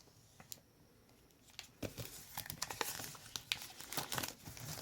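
Cardboard and plastic crinkle and tear as the box packaging of an iPad mini 6th Gen Starlight is opened, quiet at first, then a busy run of close rustling and crunching.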